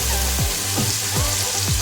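Chopped yellow and red onions fry in palm oil for a palm oil spaghetti dish. They give a loud, steady, close sizzle with no voices.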